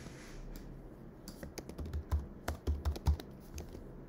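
Typing on a computer keyboard, a short burst of crisp key clicks that speeds up into a quicker cluster near the end, close and fairly quiet with no talk.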